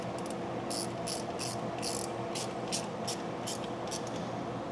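A ratchet tightening the bolt of a temp gauge on a 1972 BMW 2002, a steady run of short clicking strokes, close but soft, over a low constant hum.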